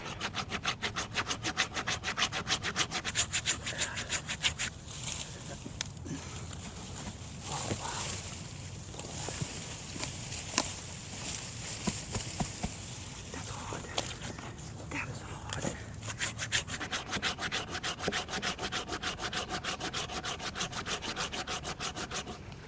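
Hand saw cutting through a large solid fatwood stump outdoors, a long run of rapid rhythmic rasping strokes, close and loud, briefly slowing midway before resuming at a fast pace.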